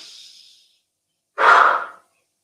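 Two close breaths during a movement routine: a soft airy exhale fading out, then after a pause a deeper, louder audible inhale lasting about half a second.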